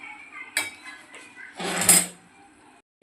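Metal utensil clinks and scrapes against a pan while misal is mashed, a few sharp taps followed by a louder grinding scrape, close and fairly quiet.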